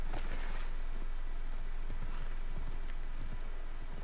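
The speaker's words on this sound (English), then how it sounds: "Use a horsey, go with a horsey." Horse hooves clip-clop in the video game Assassin's Creed Shadows, a faint, quick, uneven patter of steps beneath a soft ambient background, with no voices.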